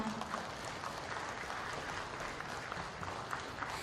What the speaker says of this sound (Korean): 정말 뜨거운 격려의 박수 여러분 보내주세요.